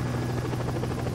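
Rotor and turbine drone of an Alaskan rescue helicopter in flight while taking on fuel from an HC-130 tanker during aerial refueling, a loud, steady, close buzzing roar throughout with no talk.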